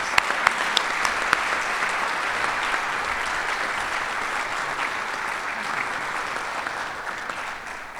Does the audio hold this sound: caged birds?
no